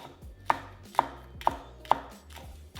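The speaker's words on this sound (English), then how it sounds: "We're gonna finely chop up our green onion." Green onion is finely chopped with a knife on a cutting board, with five crisp, evenly spaced chops landing about every half second, close and clear with nothing else heard.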